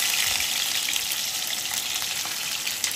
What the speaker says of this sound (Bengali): মাছ ভাজা করবে, একটু তো তেলের ছেটা খেতেই হবে অবশ্যই